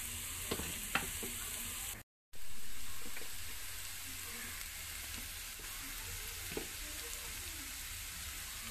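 Onions sautéing over a medium flame for cauliflower masala, a steady close hiss and sizzle with occasional stirring scrapes, briefly cut out near the start and then resuming, no talking.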